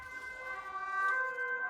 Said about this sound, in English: are you hearing those ambulances?